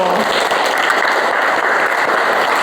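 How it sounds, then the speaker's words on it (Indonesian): Children in a classroom break into steady, dense clapping for a classmate who has just described cooking fried rice, the applause sustained and close throughout with faint voices mixed in. "Tepuk tangan untuk teman kamu."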